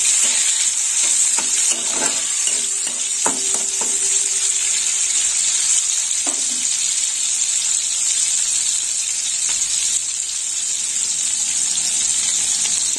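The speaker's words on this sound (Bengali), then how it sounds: "একটু নেড়ে চেড়ে নেবো।" Chopped green chillies stirred in a frying pan of moong dal, a steady loud sizzle with scraping stir strokes throughout, no voices.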